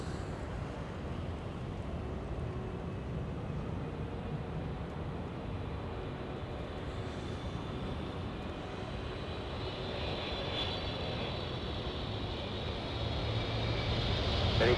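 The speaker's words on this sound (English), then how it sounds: "We have Japan Airlines 16 flying in from Haneda" Japan Airlines passenger jet flying in from Haneda on arrival at Los Angeles airport, a broad, distant roar of engines that holds steady and swells slightly near the end, with no talk.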